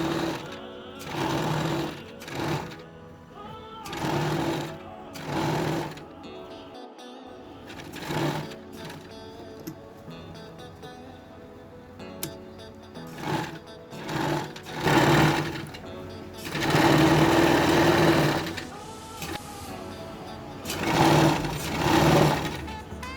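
A sewing machine runs shirring stitches on a dress in repeated close, rhythmic whirring bursts of steady needle clatter, with brief pauses between runs and a longer continuous stretch near the end.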